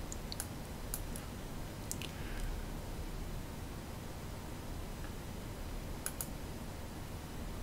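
A computer mouse clicks a few times, sharp and faint, spaced irregularly over a steady background hiss, with no one speaking.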